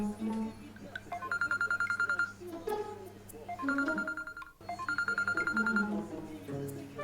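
A telephone ringing in an Amharic film scene: an electronic ringtone of repeated tonal beeps in two cycles, moderately quiet, with background sounds and no speech over it.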